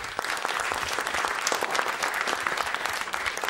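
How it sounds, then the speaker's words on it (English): Studio audience on an African stage show gives a big hand, loud sustained applause from many people, close and continuous for several seconds without speech. "Please give me a big hand of applause."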